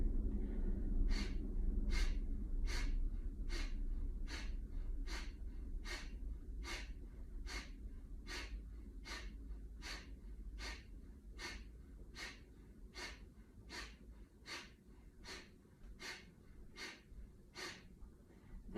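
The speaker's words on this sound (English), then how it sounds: "sharply and shortly breathing out through your nostrils as you pull your belly button and low abdomen back and up towards your rib cage" Kapalabhati yoga breathing, a long run of sharp, forceful nasal exhales at a steady, even pace, close and clear, with no speech between them.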